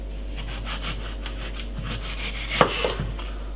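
Ripe mango being cut with a small knife: a series of soft, rhythmic scraping and slicing strokes, close and fairly quiet, ending with a couple of sharper knocks against a board.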